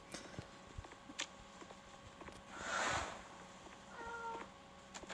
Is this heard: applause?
no